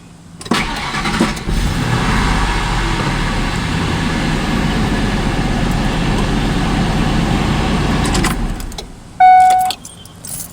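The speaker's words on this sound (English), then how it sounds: "Now I'm going to turn the engine on and you'll see what it does." Ford F-150 pickup, 1997–2004 generation, engine cranking and catching, then running with a steady loud rumble for several seconds before cutting off, followed by a short beep.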